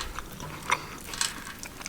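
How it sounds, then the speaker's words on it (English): Crisp bites into crunchy, juicy fried chicken on a donut bun with coleslaw, a few short crackling crunches spaced across a quiet moment, close to the mic. "The chicken is so juicy and so crunchy."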